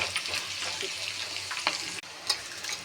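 Green chillies frying in oil over a low flame, a steady close sizzle with light crackle and a few brief stirring clicks, no voices.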